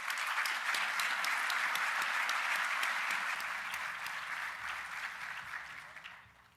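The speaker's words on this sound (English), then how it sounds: "Please join me in a round of applause for One America." Sustained applause from the audience at a sponsor acknowledgment during a business luncheon, a steady dense wash of clapping that holds for several seconds and then tapers off toward the end.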